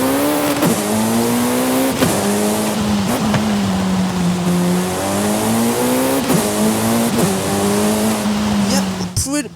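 A car engine in Forza Horizon 5 drones and revs through repeated gear shifts, pitch climbing and dropping in cycles, loud and close, with a sharp burst at the end.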